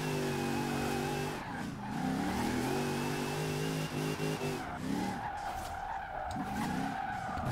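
A new police car drifts in Forza Horizon 4, its tires squealing and skidding almost continuously while the engine revs and drones with shifting pitch, loud and close with no talk.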